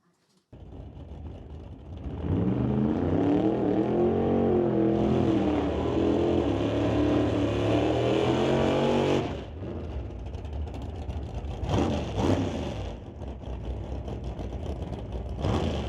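Super Pro drag race cars accelerate hard down the strip, a loud rising engine roar that builds and holds, then drops to a lower drone with further revving surges after.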